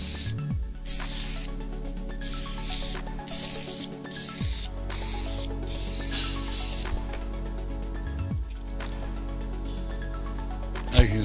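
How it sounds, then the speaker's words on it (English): Contact adhesive hisses from a spray gun onto an EPDM roofing membrane in a steady stream, broken into repeated bursts by brief pauses as the sprayer sweeps back and forth, loud and close. "spraying one way and the other way"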